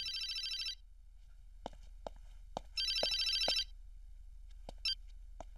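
Telephone bell ringing indoors in two electronic bursts, close and clear, separated by quiet with scattered soft knocks and clicks.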